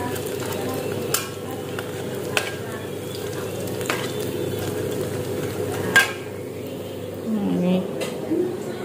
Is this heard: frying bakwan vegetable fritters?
yes